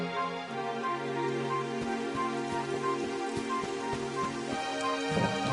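Steady rain patters on a surface throughout, a constant hiss of falling drops over a low, droning background tone, in the video game Dragon Quest XI.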